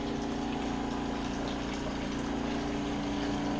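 Mini portable washing machine running its spin cycle while water drains out, a constant motor hum with a steady rushing, gushing flow underneath, close and unbroken throughout.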